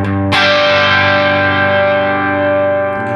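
Electric guitar with a high-output pickup run through a Xotic EP Booster pedal into a clean amp, a single loud strummed chord ringing out bright and slightly driven for about three seconds, sustaining with no talk.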